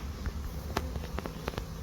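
Honeybees flying around their hives on a sunny March day, a faint steady buzz with a few brief louder passes as individual bees fly close by.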